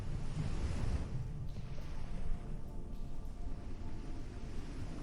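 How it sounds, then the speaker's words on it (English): Ocean waves washing below sea cliffs at night, a soft, continuous surf with a faint wind hiss, distant and even throughout. "Outside, the ocean continues its endless rhythm below the cliffs."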